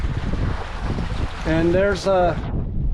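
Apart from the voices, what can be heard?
strong wind out on the Gulf while sailing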